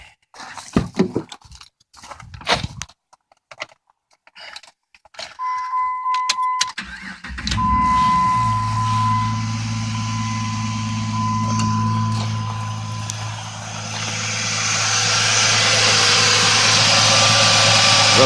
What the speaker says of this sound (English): Let's crank the vehicle real quick.